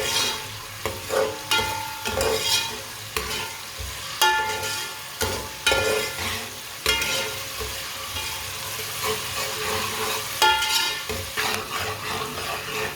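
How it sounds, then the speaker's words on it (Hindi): Chopped garlic and onion sizzle in a hot pan while a spoon scrapes and stirs in irregular strokes, the frying hiss steady underneath, close up and with no talking, during preparation of a Punjabi-style turnip curry. "लहसुन और प्याज को दोनों को ब्राउन कर लेंगे।"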